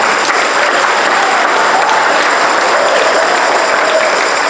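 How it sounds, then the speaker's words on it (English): A congregation at Grace United Methodist Church applauds during a Men's Day service: steady, dense clapping from many hands that holds at an even, full level for the whole stretch, with no voices above it. "A big round of applause."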